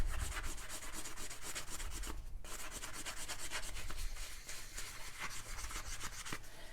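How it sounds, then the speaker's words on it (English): Sandpaper rubbed back and forth over a small metal piece before aging it with a rust solution, a steady close scratchy rasp with rhythmic strokes and no talking. "Now take your metal piece and just sand it."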